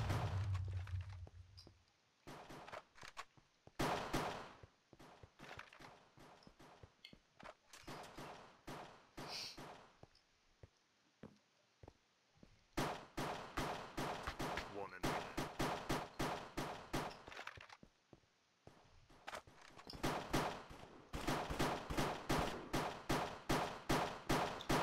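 Rapid gunfire in a CSGO-style minigame played in Minecraft, long dense bursts of shots broken by short pauses, loud and close, with no talking.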